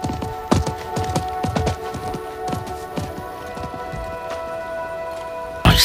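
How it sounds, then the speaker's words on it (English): Hooves of a horse galloping in the action role-playing game Diablo 4, a steady run of clip-clop beats over a background of low game music, with a sharper clatter at the very end. "I think that was the merchant's horse."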